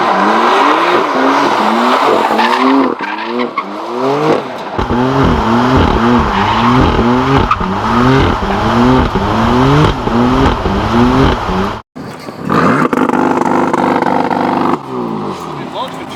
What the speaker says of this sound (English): That's launch control.